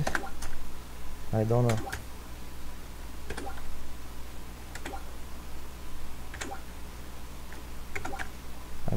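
Clicky computer keys are struck in irregular bursts during a speed typing exercise, close and crisp, with a brief spoken remark and some low background hum.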